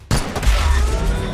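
A single loud, close burst of gunfire erupts in the Wasteland 3 video game, hitting sharply and then rolling out into a deep, rumbling decay.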